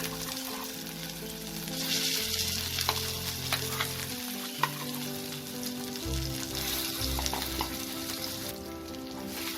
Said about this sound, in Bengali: ভালো করে তেলে নাড়াচাড়া করে আমাকে এটাকে পুরোপুরি শুকনো করে নিতে হবে।